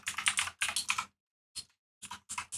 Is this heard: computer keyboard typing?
yes